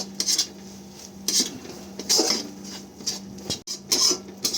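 A utensil mixes ingredients with cornflour in a bowl for an egg butter garlic dish, rapid rhythmic clinking and scraping in repeated bursts with short pauses, close and clear, with no talk.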